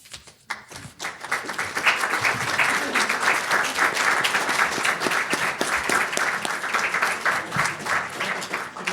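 Audience at a fall conference panel applauds the panelists with steady, dense clapping that starts sparse and quickly swells, continuing loud and unbroken.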